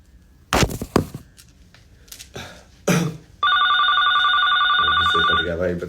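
A phone rings loudly and close by in a steady electronic trill that continues for about two seconds. Before it, brief clicks and rustles, and at the end a low voice speaks under the ring.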